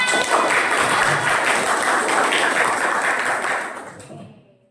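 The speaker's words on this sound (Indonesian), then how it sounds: "Oke, tepuk tangan." A burst of group clapping from many hands, dense and sustained, then fading away toward the end.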